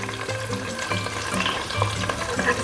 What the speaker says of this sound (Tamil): கருவேப்பிலை ஒரு கொத்து போட்டு இது பொன்னிறமாக வதக்கிக்கலாம்